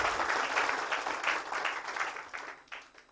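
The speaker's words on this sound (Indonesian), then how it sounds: "Tepuk tangan untuk Keling dulu, ya." Audience applause at a business opportunity presentation, a short burst of dense clapping from a room of people that stays steady, then thins slightly toward the end.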